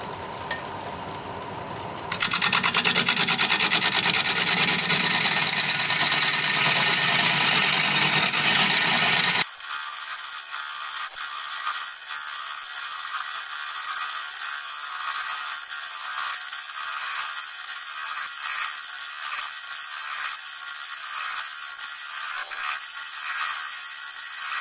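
A wood lathe spins a manzanita blank while a carbide tool cuts it, giving a steady, loud motor drone with scraping. Partway through, the low rumble drops away, leaving a thinner high whine that carries on to the end.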